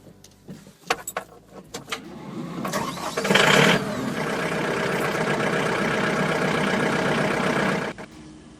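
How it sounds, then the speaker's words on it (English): Keys jangle, then a tractor engine cranks and starts with a loud catch. It settles into a steady, rumbling idle for several seconds before shutting off. "Now I'm going to drive this tractor like a man."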